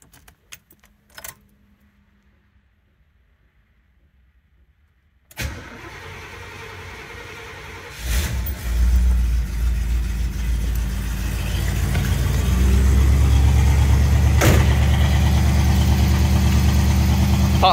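A 1972 Oldsmobile Custom Cruiser with a Rocket 455 V8 sits quiet before the starter whirs, the cold engine catches with a loud burst, then settles into a deep, rising idle with choke set.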